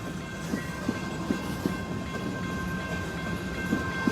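NS 4422 freight train in Madisonville, Kentucky, rolling past as a steady rumbling wash with faint rhythmic clicks of wheels over rail joints and a thin sustained tone above, moderately distant, no talk.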